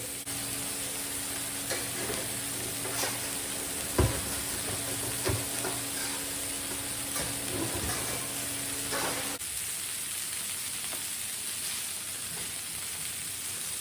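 A Juicy Lucy burger sizzles on a hot grill, a close, steady hiss and crackle with a few light knocks, the sizzle easing after about nine seconds.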